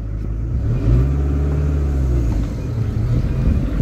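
A Kia Spectra's engine revs on a test drive, a steady low rumble that swells briefly and then holds an even drone up close.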